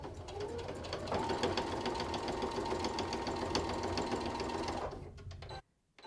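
A sewing machine stitching fabric runs in a steady fast rhythmic whir for about five seconds, close and loud, then stops abruptly.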